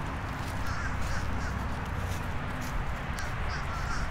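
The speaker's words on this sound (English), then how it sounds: "Those are crows." Crows caw loudly and repeatedly outdoors while exploring around Hollywood, Florida, their harsh calls rising over a constant, dense background noise.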